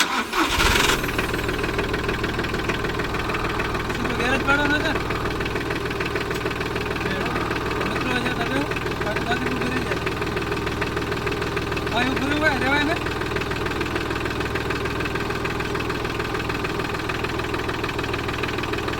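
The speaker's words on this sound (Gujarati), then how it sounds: "આ ટ્રેક્ટર નાની ખેતી માટે બહુ મસ્ત ટ્રેક્ટર છે" A small tractor for small-scale farming cranks at the start, then settles into a steady, close, loud diesel idle with a knocking rhythm that runs throughout, while people talk over it.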